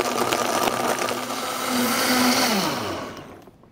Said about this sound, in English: we're going to put it in a high-speed blender